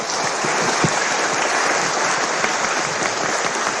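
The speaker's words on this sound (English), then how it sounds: "Let's give Lisa and all the students a big round of applause." A university audience at an honorary doctorate ceremony gives a sustained round of applause, a steady, dense, fairly loud wash of clapping that holds evenly throughout, with no speech heard.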